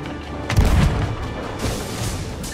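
A heavy cannon boom with rumbling tail, followed by a fainter second thud, from a ship's cannon in Sea of Thieves, without speech.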